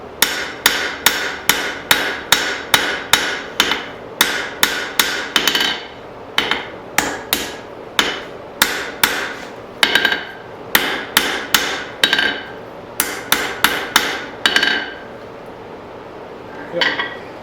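Steel being forged with a hammer, peening away leftover straight peen marks before beveling: a steady run of sharp, loud ringing strikes with short pauses between groups, close and alone.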